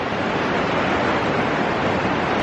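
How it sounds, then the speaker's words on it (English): The swollen Clark Fork Creek in Montana rushes past in high flow, a steady, dense roar of running water that holds constant without any break. "This is the Clark Fork Creek, really running right now."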